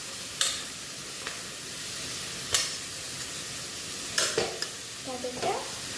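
Onions sauté in a pan for chicken curry, giving a steady, quiet sizzle broken by a few sharp scrapes and clinks as a spoon stirs them.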